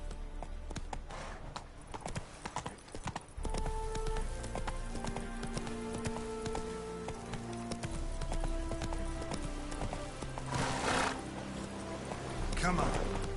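A horse gallops in the video game The Witcher 3: Wild Hunt on PS5, its hoofbeats a steady rhythmic clip-clop under game music and ambient patter, with a voice heard briefly.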